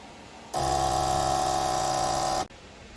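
Fuel injectors from a forged 5.3 engine fire on a test bench in a loud, steady buzzing drone that starts abruptly, holds for about two seconds, then cuts off.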